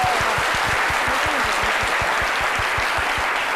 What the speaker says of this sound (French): Merci, Docteur Philo, qu'on applaudit très fort.